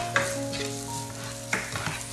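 Garlic and onion fried in cooking oil in a pan, stirred with a utensil, for pork ginamay. Steady sizzle with a few distinct scraping strokes of the stirring, close and alone.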